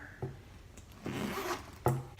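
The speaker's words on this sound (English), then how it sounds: "It has a zipper." A zipper on a Louis Vuitton bag gives short, close scraping rasps, a couple of quick pulls separated by pauses, with no talking.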